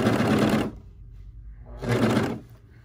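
Bursts of a serger sewing machine stitching a sleeve to a blouse body: two loud, close rapid runs of whirring stitches separated by a quiet pause, with no talking.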